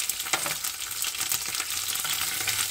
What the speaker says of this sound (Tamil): கடுகு பாருங்கள் வெடிக்க ஆரம்பிச்சிருது